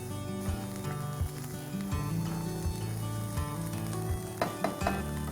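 Onion and ginger garlic paste fry in a pan after mustard seeds crackle, a steady close sizzle with repeated knocks and scrapes of a spoon stirring against the pan, with no talking.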